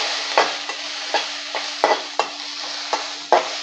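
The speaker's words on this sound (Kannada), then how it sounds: "ಸ್ವಲ್ಪ ಫ್ರೈ ಮಾಡಿದರೆ ಸಾಕು ರೀ." Long chillies frying in oil in a pan for a Savaji-style yedami pickle give a steady, close sizzle, broken by about ten sharp spatula scrapes and stirs at irregular intervals, with no talking.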